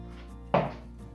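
A knife comes down once on a board, chopping thick ham into little squares for a ham and cheese jambon filling: one sharp, fairly close thud-chop against a quiet room.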